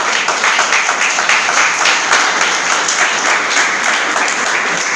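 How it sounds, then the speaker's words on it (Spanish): A church congregation applauds steadily and loudly throughout, a dense, even wash of clapping with no speech over it. "Denle un aplauso al Señor por eso."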